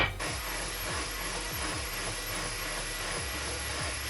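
A Kreg MortiseMate cutting a mortise runs as a loud, steady, high-pitched motor whine with a constant broadband rush, accompanied by faint low rhythmic thumps throughout.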